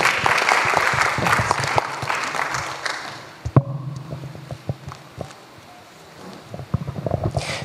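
A church congregation at a worship service applauding: dense, loud clapping that thins out and fades to scattered claps, then builds again briefly near the end.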